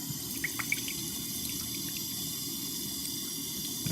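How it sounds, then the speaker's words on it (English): Water trickles from a tap over a dirt-crusted Canadian 80% silver coin during rinsing, a steady faint running stream with a few small drips and splashes, no voices. "take this Canadian silver and just dab it off with a little bit of water"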